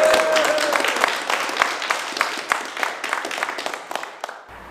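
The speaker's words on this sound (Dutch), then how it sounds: "Even een applaus." A group of survival-run trainees at The Box applauds their trainers, steady clapping from many hands rising and thinning over a few seconds with a brief voice near the start.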